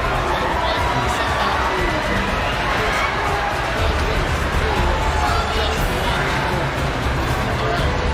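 A packed arena crowd at the Mobile Legends M5 World Championship grand finals roars continuously in support of AP Bren, a loud, dense wall of cheering and shouting that never lets up.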